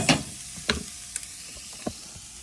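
Food sautéing in a pan: a soft steady sizzle with a few sharp clinks and stirs of a utensil scattered through, fairly quiet, with no talk.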